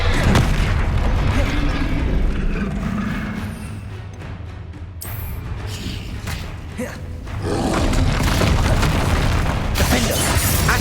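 Bombarda spell blasts in Hogwarts Legacy, loud booming explosions over a dense roar of battle, with a brief drop in the middle before the rumble swells again.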